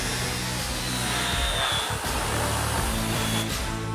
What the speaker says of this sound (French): quelques coups de scie circulaire.